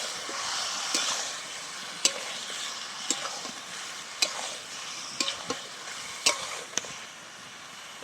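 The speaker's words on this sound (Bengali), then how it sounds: "খুব ভালো করে আবার কিছুক্ষণ মাংসটা আমি কষিয়ে নেব" Marinated country chicken frying in a pan with spice paste while being stirred, a steady close hiss broken by repeated sharp scraping strokes of the spoon.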